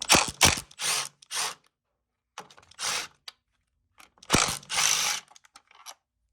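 Four bolts are unscrewed from the back panel of an Amia unit, heard as close, separate bursts of ratcheting and metallic turning with brief pauses between them.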